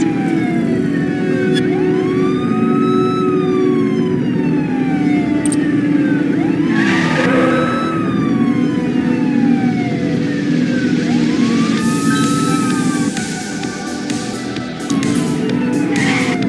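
Police sirens during a car pursuit in The Precinct, with several loud wailing sirens rising and falling in overlapping sweeps over the engine rumble of the chase vehicles.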